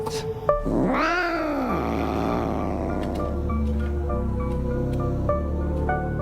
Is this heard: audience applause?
no